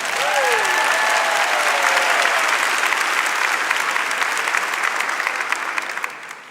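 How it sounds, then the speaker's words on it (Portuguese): A church congregation applauds during a Catholic Mass for the Solemnity of Saints Peter and Paul, a dense, sustained wash of clapping that stays steady and fairly loud before tapering off at the end, with a few faint voices mixed in. "Aplauda a sua fé."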